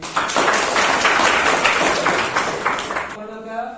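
A classroom of ninth-grade students claps together, a brisk burst of many hands lasting about three seconds, fairly loud and close, then cutting off abruptly as a voice begins.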